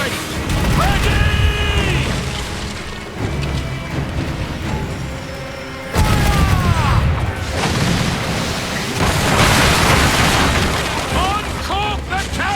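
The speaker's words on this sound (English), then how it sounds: "We can scuttle her! We'll give a good broadside!" Heavy cannon broadside booms from a sailing warship in Assassin's Creed Black Flag, loud rolling blasts in two main waves amid chaotic battle noise, with crew voices shouting over them.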